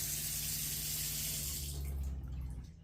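Water runs steadily from a tap in an RV, a loud continuous rush that cuts off near the end, leaving a low hum underneath.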